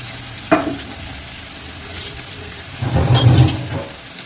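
Ginger-garlic paste drops into hot oil with frying onions and a sharp sizzle bursts up, then fades to a low steady crackle before a second, louder spell of sizzling and stirring swells near the end.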